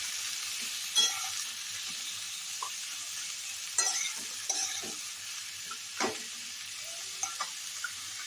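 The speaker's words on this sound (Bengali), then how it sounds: "আঁচটা বাড়িয়ে আমি এটা একটু ভাজা ভাজা করে নেবো।" Pieces of bhetki fish fry in a pan, a soft steady sizzle broken by occasional scrapes and taps as they are stirred, with no talking.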